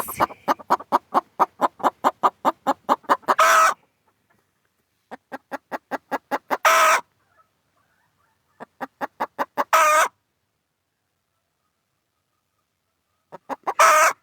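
A hen that has just laid an egg clucks close by in three bursts, each run of steady clucks rising into a loud, squawking cackle, with quiet pauses between.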